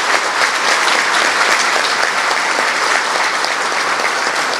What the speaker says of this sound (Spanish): Un aplauso para nuestra organización.